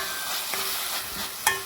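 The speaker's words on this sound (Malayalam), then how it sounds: "ഓക്കെ, നമുക്കിത് ഇളക്കി കൊടുക്കാം." Papaya leaf thoran sizzles in a pan while being stirred, a steady close frying hiss broken by a few soft scrapes and taps of the spoon.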